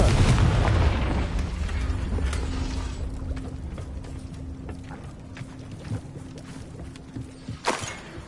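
In Hogwarts Legacy, a Confringo blasting spell erupts in a loud, rumbling boom that slowly fades, followed by smaller scattered impacts and a sharp burst near the end, with no talk.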